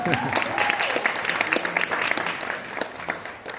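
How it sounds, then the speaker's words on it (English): A crowd applauds at a history talk at a music event, hearty clapping with some cheering that holds strong and then tapers slightly toward the end, with no voices over it. "Give it a round of applause."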